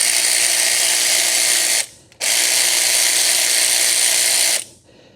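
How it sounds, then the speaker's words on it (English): Ratchet wrench removing bolts from the power steering pump of a 1966 Plymouth Fury, two long bursts of rapid, loud, close clicking separated by a short pause. "first thing we're going to do is take off the power steering pump"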